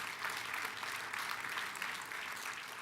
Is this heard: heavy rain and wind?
no